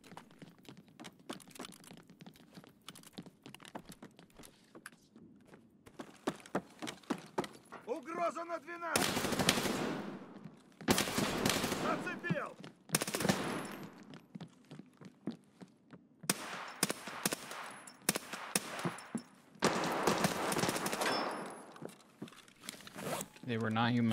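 Gunfire in the Escape from Tarkov video game, clusters of sharp shots and rapid automatic bursts at varying distance, with a voice talking between the volleys.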